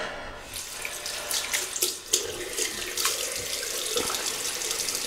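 Tap water runs steadily into a sink for rinsing after a razor shave, a close, continuous splashing hiss with slight shifts as hands move through the stream, no talking.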